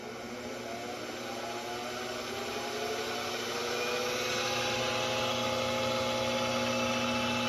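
A Grizzly G704 mini mill spindle whirring steadily as it is throttled up, its motor whine rising in pitch and growing slightly louder over several seconds, with a constant background hum.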